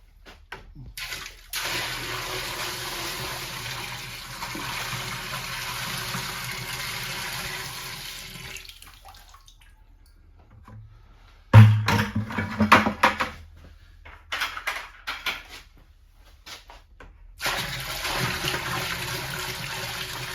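Buckets of water are poured onto beeswax during wax recovery, bringing several rushing, splashing pours separated by quiet gaps, some sustained and some short and choppy, close by.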